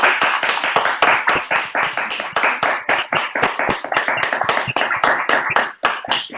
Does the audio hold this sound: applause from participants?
yes